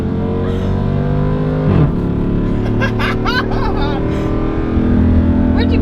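A 1JZ-engined Lexus accelerates hard in a street race against a Civic, its steady engine drone loud and close throughout, swelling near the end, with people talking over it.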